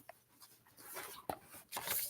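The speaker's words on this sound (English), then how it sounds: "Now she's barking at me." A pet dog indoors gives a few short, faint barks and yelps, one sharp bark standing out and a louder burst of barking closing the moment, with no talk over it.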